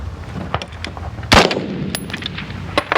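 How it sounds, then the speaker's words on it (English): A single loud, sharp gunshot cracks at a shooting range, followed by a short echo and faint clanks and outdoor background noise. "so I put 2 rounds of that, which is what I wanted to do"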